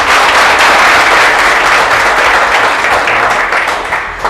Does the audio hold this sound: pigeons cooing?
no